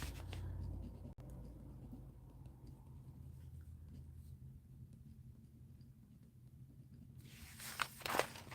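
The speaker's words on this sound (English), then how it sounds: "Especially when I'm writing really fast." A pen scratches quickly across paper in faint, soft strokes, close but quiet, with a brief louder rustle near the end.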